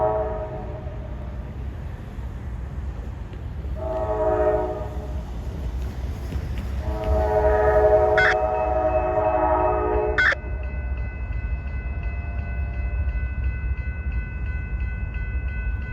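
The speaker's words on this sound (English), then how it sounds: "we have an eastbound NS train coming" An eastbound Norfolk Southern train rumbles nearby in Pennsylvania as it approaches, with several long horn blasts rising over the steady low roar of the engine and rails.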